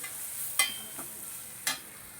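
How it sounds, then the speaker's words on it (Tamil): Chopped onions sautéing in a pan for paneer bhurji give a faint, soft sizzle, broken by two sharp spatula clacks against the pan about a second apart. "இந்த பெரிய வெங்காயத்தை சேர்த்து இதையும் சேர்த்து நம்ம நல்லா வதக்கிக்கலாம்."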